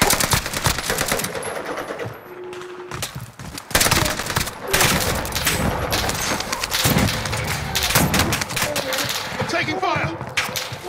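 Loud, close machine-gun fire and scattered shots in Call of Duty: Modern Warfare Warzone on the Pacific map, sustained bursts with brief pauses, while players talk over the battle.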